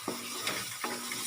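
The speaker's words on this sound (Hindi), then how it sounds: "इसके मसाले को हमें बहुत अच्छे तरीके से भूनना है" Spice masala for chicken feet sizzles in a pan with red chili powder, turmeric, salt and green chili paste, while a spoon scrapes and stirs it in short strokes, close and steady, with no one talking.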